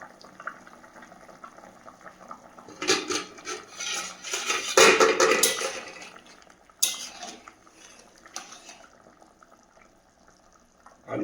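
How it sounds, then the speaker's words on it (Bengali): A lid comes off a pot of vegetable curry with potatoes and capsicum cooking at home, giving a few close metallic clinks and clatters over a soft background simmer, quieter toward the end, with no talk. "তো আমি তরকারির ঢাকনাটা খুলে দেখে নেব কী অবস্থায় আছে। খুব সুন্দর ফুটছে।"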